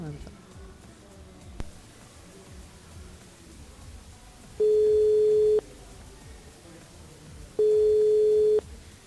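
Telephone call on a French-language radio show ringing out, two long steady electronic tones a few seconds apart over quiet studio background with faint talk earlier.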